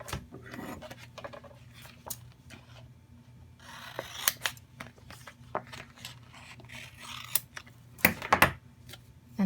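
Scissors cutting out adhesive vinyl letters on a sticky mat, a series of close, crisp snips and small clicks at an irregular pace over a quiet room hum, with no one talking.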